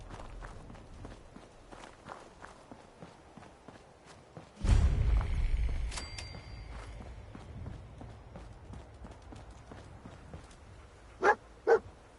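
A dog barking in the video game Fallout 4, a loud burst of thumping and barks midway, with quieter footsteps before and two short sharp barks near the end.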